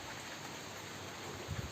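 Rain falling outside a workplace while loading waits, a faint, steady patter heard alone at low volume.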